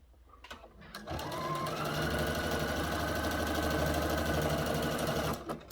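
A sewing machine with a topstitch needle stitches through several quilting fabrics, a steady close mechanical whir running for about four seconds after a few short starts, then stopping.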